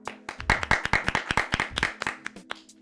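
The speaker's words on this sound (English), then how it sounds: "Everyone, round of applause for Robert." A small group gives Robert a round of applause, a short burst of a few hands clapping unevenly and close by, tapering off into a few final claps.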